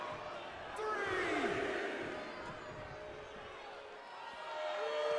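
In the WWE 2K22 wrestling video game, an arena crowd cheers during a match as a steady, loud roar that swells and dips over several seconds, with voices over it.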